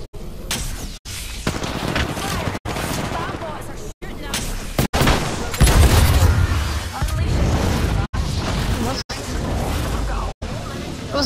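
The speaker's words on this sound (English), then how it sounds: "Bad boys are shooting at me." Enemy gunfire in Apex Legends, loud and sustained bursts of shots and booms filling the clip, cut by brief gaps, with a player talking over the firefight.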